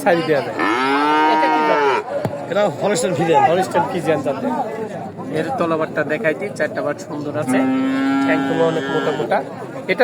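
A heifer lets out long, loud moos, one near the start and another near the end, while people chatter constantly around it at the Sharat Nagar livestock market in Bhangura.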